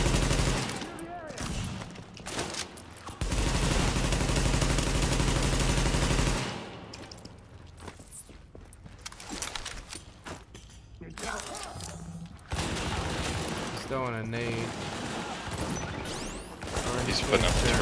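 Gunfire in The Division, loud sustained automatic bursts and scattered shots with thuds, heavy at first then in intermittent volleys, with someone talking over parts of it.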